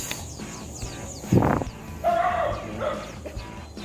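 A single dog bark rings out at a distance, followed by a few fainter whining yips over steady outdoor background noise.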